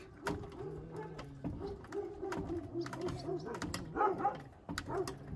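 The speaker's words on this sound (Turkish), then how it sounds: "Köpek ne bağırıyorsun köpek?" A dog barks and whines repeatedly nearby, short yelps in an uneven rhythm over a quiet background.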